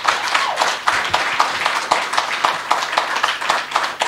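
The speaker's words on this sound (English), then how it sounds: "I just want us collectively to just give all of them a round of applause, our speakers." Conference audience at a public service and commercial union's inaugural gathering applauding its speakers, dense sustained clapping from many hands filling the room steadily throughout.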